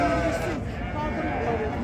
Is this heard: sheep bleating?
yes